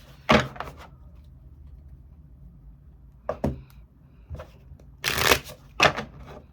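Tarot cards being shuffled by hand in several separate bursts of riffling and flicking, close and fairly loud, with quiet pauses between and no talking.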